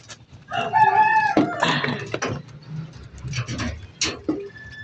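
A tame pet rooster crows nearby, one loud, drawn-out call near the start, followed by softer clucks and someone talking close by.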